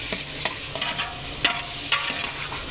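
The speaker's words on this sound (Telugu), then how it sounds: "ఫ్రెండ్స్ ఆల్మోస్ట్ ఫ్రై అయినాయి బెండకాయలు" Okra frying in a pan, with a gentle continuous sizzle broken by repeated light scraping taps from a spoon stirring, quiet and up close.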